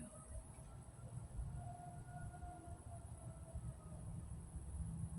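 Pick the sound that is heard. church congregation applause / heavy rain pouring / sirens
sirens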